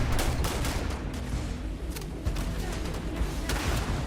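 Rapid gunfire and explosive weapon fire in the sci-fi video game Starfield, a dense, loud, continuous barrage of cracks and booms with no pauses.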